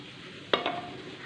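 Ghee heating in a kadai, giving a soft steady sizzle with a brief sharp crackle burst midway, close and alone.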